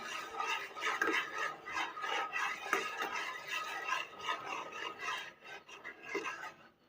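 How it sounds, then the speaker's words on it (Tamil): Grated coconut is stirred into hot jaggery syrup in a pan for coconut barfi, giving a soft, continuous scraping and rubbing sound with irregular strokes, fairly quiet and close. "தேங்காய் திருவில் போட்டு நல்லா மிக்ஸ் பண்ணிக்கலாங்க"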